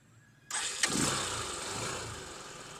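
A United US150 motorcycle fires up on its electric self-starter: a brief quiet, then a sudden crank-and-catch with a sharp burst, after which the engine settles into a steady, close idle.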